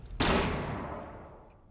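A flashbang grenade detonates in a destructible-environment video game, a sharp loud bang followed by a long decaying ring and a steady high-pitched tinnitus tone that lingers after the blast.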